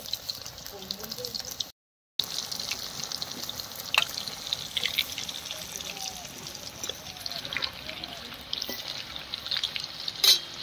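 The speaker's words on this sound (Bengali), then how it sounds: "ওই কড়াতেই তেল দিয়ে দেবো, দিয়ে আলুগুলো সব ভেজে নেব।" Potatoes fry in oil in a kadai with a soft, steady sizzle, punctuated by occasional clinks and scrapes of a stirring utensil, with one brief gap of silence early on.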